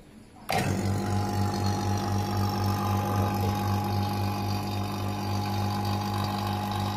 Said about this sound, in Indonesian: jadi kita vakum dengan menggunakan mesin vakum